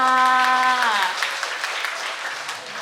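Guests at a Thai wedding ceremony in a hotel applaud steadily at moderate volume, with a sung or held voice tone fading out during the first second.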